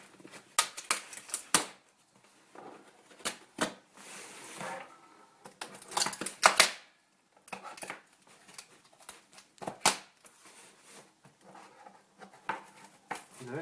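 A parcel bound in heavy layers of packing tape being opened, with bursts of tearing, ripping and crinkling that come in irregular clusters and pauses, close and moderately loud, with no voices.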